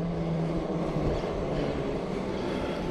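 An upgraded Lectric XP electric bike climbs a hill, giving a steady broadband whir and rumble, likely mixed with wind, continuous and fairly loud with no talking.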